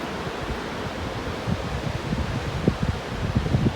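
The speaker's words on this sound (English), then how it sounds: "Teddy Graham, do you like the waterfall?" A waterfall in South Carolina pours with a steady broadband hiss and rush, heard from a moderate distance with faint low splashing flickers and no voices.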